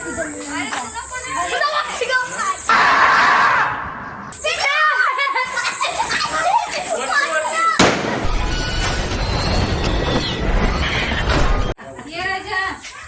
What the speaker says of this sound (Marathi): हातामध्ये बॉम्ब पेटून हवेत उडत होते